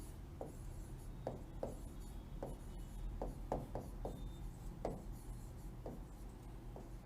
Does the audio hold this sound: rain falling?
no